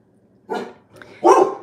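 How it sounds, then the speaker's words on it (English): A pet dog barks twice at a car pulling up at a neighbor's house, two short sharp barks about a second apart, moderately close with quiet between them. "Any car that pulls up, he'll start barking."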